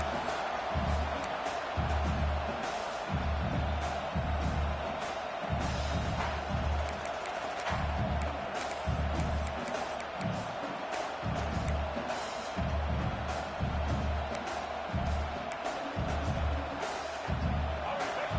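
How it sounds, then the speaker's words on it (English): Stadium crowd roar in a college football video game, a dynasty matchup against #15 Texas A&M, a steady dense wash of cheering filling the whole stretch beneath a commentator's voice. "Listen to the crowd energy here in the early going"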